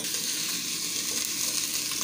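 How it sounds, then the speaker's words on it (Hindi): Garlic and ginger paste sizzles steadily in about three tablespoons of hot oil, a dense, continuous frying hiss that holds level and close throughout with no voices. "3 टेबलस्पून जो है वो ऑयल ऐड करेंगे और फिर लहसुन अदरक का पेस्ट ऐड करेंगे"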